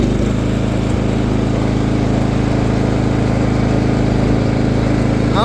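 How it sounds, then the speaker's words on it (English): A John Deere GX95 riding mower runs in fifth gear with its engine held steady at a loud, close drone, a constant buzz throughout with no clear rise in pitch. "Just going to give it some gas. We're in 5th gear."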